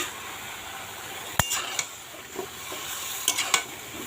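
Mixed vegetables with pumpkin and turmeric powder cook in a pan, a low sizzle with a few sharp knocks and scrapes of a stirring spoon, close and without talk.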